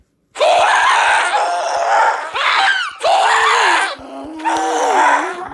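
Loud, continuous screaming and wailing from mobs in Minecraft 1.16, several long harsh cries in close succession with brief gaps and rising pitch swoops, up close and dominating.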